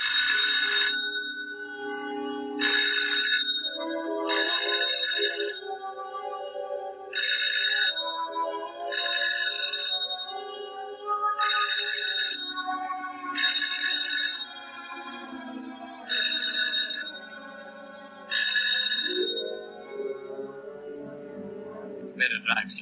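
A telephone rings over and over at a steady rhythm, each ring a bright warbling burst separated by short pauses, fairly clear and unaccompanied by talk.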